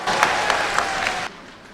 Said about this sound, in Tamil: கைத்தட்டல் விழுகிறது